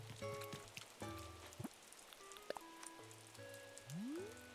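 Rain in the video game Animal Crossing patters softly and steadily, joined by scattered game chimes and short tonal blips, all faint with no talking.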